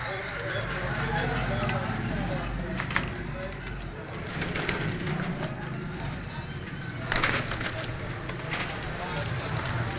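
Pet pigeons kept for flying give soft, low, repeated coos close by over a steady background hum, with a few sharper knocks and rustles scattered through.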